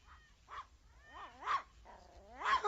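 A dog in a radio drama whimpers and lets out short yips and barks, several distinct close-up bursts in a row, fairly clear against a quiet background.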